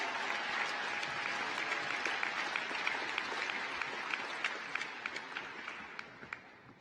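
Audience applause at a high school graduation ceremony: sustained clapping in a large hall that thins toward the end into scattered individual claps.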